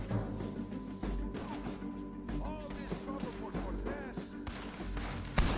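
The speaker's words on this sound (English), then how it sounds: "Oh, he's shooting at me." Gunfire from Red Dead Redemption 2, with shots from a sniper, cracks out in repeated bursts over a dense, busy game soundscape with musical tones, fairly loud and steady throughout.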